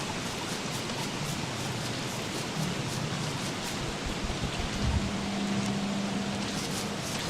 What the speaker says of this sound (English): it looks like it's a new frog rain